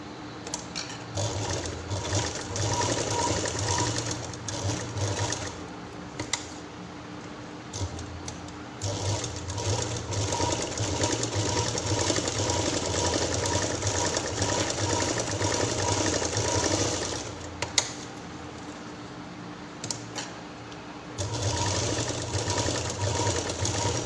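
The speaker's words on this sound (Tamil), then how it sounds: "இப்போது செகண்ட் ஸ்டிச் ஒன்று இங்கேருந்து இங்கே வரைக்கும் ஒரு தையல் போட்டுடலாம்." Electric sewing machine stitching a fabric school exam pouch, a steady loud mechanical whirr with rapid needle clatter running in long bursts, broken by brief pauses and a click.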